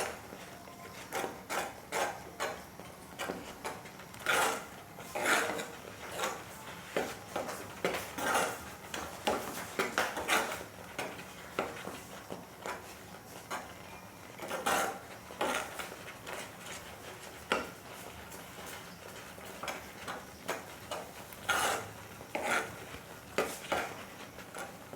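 A spoon scrapes and clinks against a pan while mango laddoo mixture is stirred and cooked, a steady run of quiet, close taps and scrapes with no talk.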